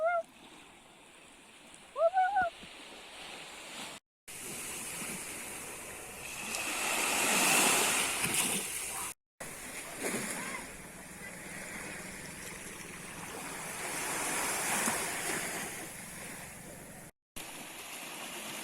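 Evening surf at Hua Hin beach in Thailand rolls in faint and distant, with two soft swells rising and fading, and a brief chirp near the start.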